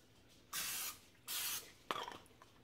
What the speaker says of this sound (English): I forgot to spray the Pam.